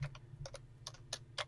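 Faint keystrokes from a computer keyboard tap out in an irregular run of about eight clicks, heard quietly over low background hum during a D&D game session.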